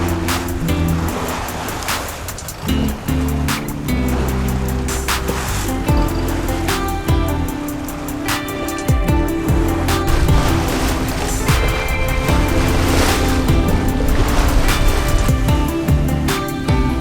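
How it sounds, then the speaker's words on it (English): A 43-foot sailing yacht under sail along the east coast of Queensland, with steady rushing of water against the hull and wave wash throughout, close and loud, plus occasional knocks and rattles aboard. "we are now sailing our 43-foot yacht"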